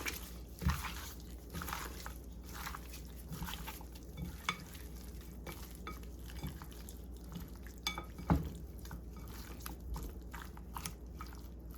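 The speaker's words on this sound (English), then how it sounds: "Just gonna mix everything up together." Turkey drumsticks being mixed by hand with seasoning and sazon in a bowl, producing soft, wet squelching and rustling with occasional knocks against the bowl, quiet, close and steady.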